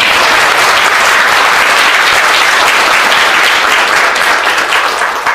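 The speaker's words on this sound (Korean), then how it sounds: "들고 계셨던 만장 드셨던 동지들에게 박수를 드립니다." Loud, dense applause from a crowd at a labour rally, honoring comrades who carried heavy funeral-style banners, sustained steadily throughout without speech.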